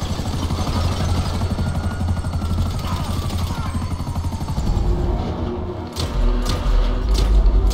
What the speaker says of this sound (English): Take out that chopper!